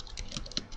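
Short burst of typing on a computer keyboard while entering a router configuration command, quiet, close keystroke clicks with no speech.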